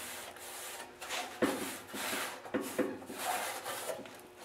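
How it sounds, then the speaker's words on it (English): Abrasive scuffing of the painted metal chute of a snowblower to prep it for new paint, heard as steady close raspy rubbing strokes with a few harder scrapes, and no talking. "The trick is just to scuff up the paint so that the new paint sticks to it much better"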